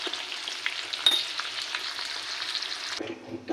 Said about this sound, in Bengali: এবার আমরা পেঁয়াজটা একটু হালকা করে ভেজে দেব।